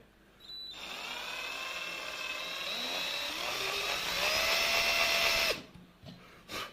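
A small power drill bores a little hole, its high whine running for about five seconds and rising slightly in pitch before cutting off abruptly, close and fairly loud.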